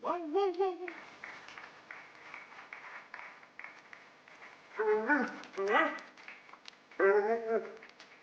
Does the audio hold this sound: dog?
yes